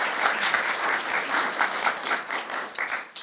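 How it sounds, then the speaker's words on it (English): Brief applause from a modest crowd at a school check presentation honoring elementary schools, a steady patter of many hands clapping at moderate volume, fairly close, without pause. "A big round of applause for them."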